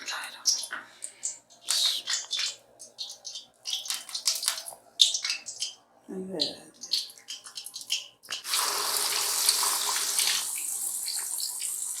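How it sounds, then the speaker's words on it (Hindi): Chicken pieces frying in hot oil over low heat, a steady broad sizzle that starts partway through after a stretch of someone talking with small kitchen clatter. "तलना शुरू कर दिया"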